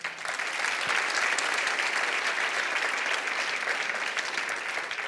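An audience at the Prix Écovisionnaires 2021 award ceremony applauds finalists, a sustained round of clapping from a roomful of people that holds steady and loud before easing slightly at the end.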